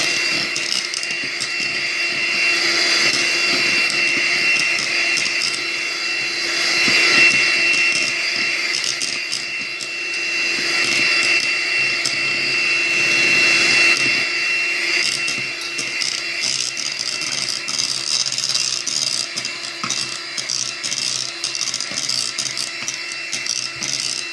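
An electric mixer whirs steadily while beating sponge cake batter into foam, a loud, continuous motor drone with slight swells in pitch and intensity, unbroken throughout.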